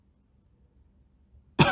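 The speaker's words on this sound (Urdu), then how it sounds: "وہ کھانسنے لگا۔" A man coughs once, a sudden loud, harsh burst at the very end after near silence.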